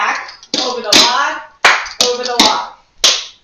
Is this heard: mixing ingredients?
no